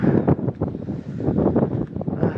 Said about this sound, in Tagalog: huminahina na tong hangin na to eh